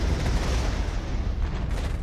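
Gepard anti-aircraft guns in the Regiments wargame firing on aircraft, a dense rumbling barrage of rapid cannon fire and booms, loud and sustained for the whole moment.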